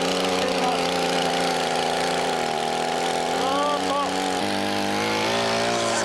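A chainsaw cuts horizontally into a standing tree trunk during a felling cut. The engine holds a loud, steady buzzing drone that shifts pitch as the chain bites deeper, with a voice briefly heard over it.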